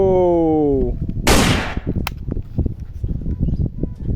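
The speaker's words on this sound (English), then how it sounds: "Pistol. Captain America pistol." A toy Captain America pistol gives a short electronic warble, then one sharp cap-gun-style bang. A rattling clatter trails off after it, loud and close.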